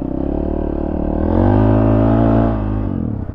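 A Honda CRF450RL dirt bike revs off road, its engine note climbing to a loud, sustained peak, holding briefly and then dropping away, close by with no talking.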